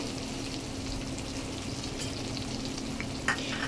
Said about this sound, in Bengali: এবার কুচিয়ে রাখা পেঁয়াজগুলোকে দিয়ে দিলাম।